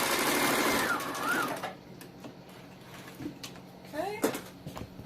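A sewing machine stitches and back-stitches a fabric casing for baby booties in a steady mechanical whir, loud at first and then fading; brief clicks and light handling noises follow.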